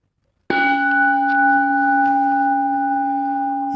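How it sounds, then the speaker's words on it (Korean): A temple bell at a Korean Buddhist hermitage is struck once, a sudden loud clang followed by a long, steady humming ring that slowly fades, alone without talk. "이 종소리에 꿈을 깨시라"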